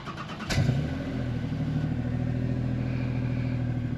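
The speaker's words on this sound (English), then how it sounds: "we're gonna do the Sienna, just to compare what a normal car is supposed to sound like" A Toyota Sienna minivan starts from cold: a short starter crank, then the engine catches with a sharp rise and settles into a steady, fairly quiet idle hum close by.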